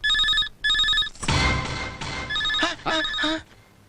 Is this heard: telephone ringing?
yes